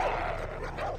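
Dogs barking in the video game Far Cry 3: a couple of sharp, fairly close yelping barks, one at the start and another near the end, over a steady game background hum.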